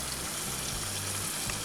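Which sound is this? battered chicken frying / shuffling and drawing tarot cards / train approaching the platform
battered chicken frying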